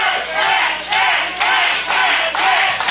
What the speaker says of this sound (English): The crowd is cheering for Matt Smith.